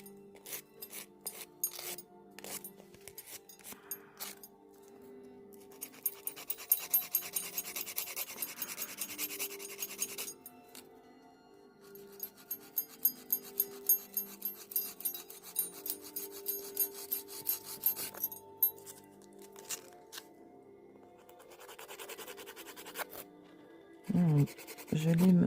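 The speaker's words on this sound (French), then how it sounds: "Je lime le rebord de la capsule pour qu'elle ne fasse plus qu'une avec mon ongle." A nail file rasps quietly across the edge of a false nail tip glued onto a fingernail, in repeated short back-and-forth strokes that come in bursts, close and soft.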